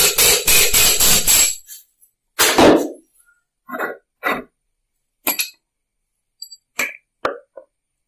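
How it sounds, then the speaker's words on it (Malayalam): Sharp hammer blows on an 8 mm steel rod drive out the shuttle drive shaft link of a sewing machine under repair, a dense burst of rapid strikes followed by scattered single knocks with pauses between. "Shuttle drive shaft link release ചെയ്യാൻ 8 mm വണ്ണമുള്ള ഒരു കമ്പി ഉപയോഗിച്ച് ഹാമർ വഴി ഊരിയെടുക്കുക."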